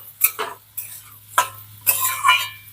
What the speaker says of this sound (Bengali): এইভাবে মিনিট দু তিন নেড়ে চেড়ে ভেজে নেব